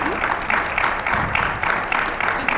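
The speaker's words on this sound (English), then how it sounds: "let's please give a big round of applause to our panelists and my moderator" A conference audience claps for the panelists and moderator of a housewares discussion, a dense, fairly loud patter of many hands that stays steady throughout.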